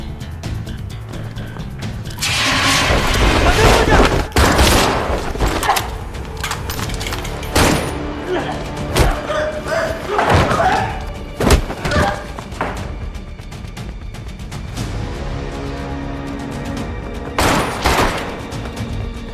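Gunfire in a Chinese crime drama firefight, with loud bursts of shots and heavy thuds through much of the scene, several sharp impacts standing out, some voices mixed in.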